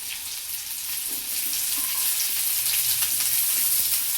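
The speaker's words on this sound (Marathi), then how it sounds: "आता आपल्याला इथं सर्व भाज्या मिक्स करून घ्यायच्या." Sliced onion and mixed vegetables for soybean chili fry in a pan, a steady close sizzle with soft stirring scrapes and no talk.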